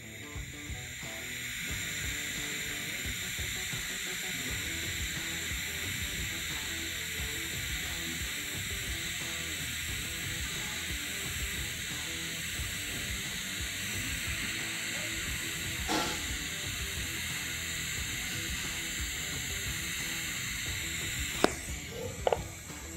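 Steady hiss and crackle of a TIG welding arc on carbon steel as filler wire is fed into the puddle, continuous and close throughout, with a couple of faint clicks near the end.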